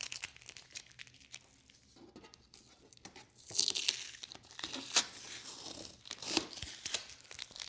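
Packing tape is peeled from the box of a laser engraver, giving close, crackling tears and crinkles that swell into a few louder rips before trailing off into quieter rustling.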